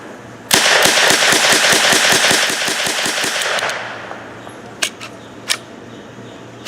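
Rapid semi-automatic gunfire from a Czech SA-24 carbine at an outdoor range: a loud burst of about fifteen evenly spaced shots, then two sharper isolated reports after a short pause.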